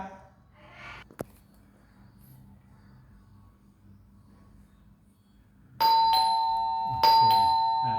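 A repaired 220VAC electric doorbell that had failed to sound when its switch was pressed, at Rama 2 Soi 74. After a quiet stretch and a single sharp click, it rings loudly and close twice with bright, sustained metallic dings.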